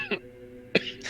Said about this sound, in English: I'll start doing a little bit of a cough routine